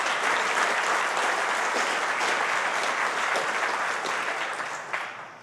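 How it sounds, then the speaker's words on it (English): A large conference audience claps steadily and loudly for several seconds, a dense wash of applause with no talking, tapering off slightly at the end. "give them a round of applause"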